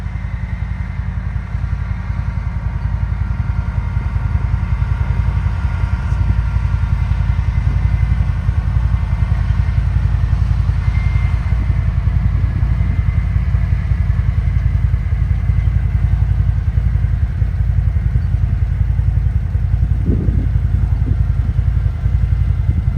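A small side-by-side utility vehicle drives along farm roads beside cornfields, its engine a loud, continuous rumbling drone with faint rattles, steady throughout and with no talking.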